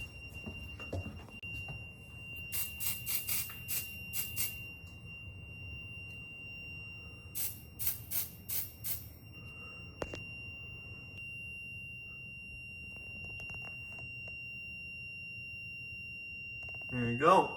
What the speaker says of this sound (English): Now we will do our hallway smoke.